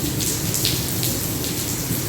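Heavy rain falls in cold, gusty wind, a continuous close hiss of drops with a few brief spattering bursts on top and no one talking.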